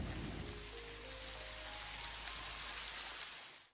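Steady rain falls across the whole stretch in the beaver colony-building game Timberborn, a dense, even patter on surfaces that fades out at the very end, with no voices.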